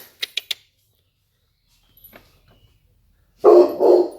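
Three quick, sharp dog barks up front, then a pause with faint soft sounds, followed by two louder, rougher barks near the end.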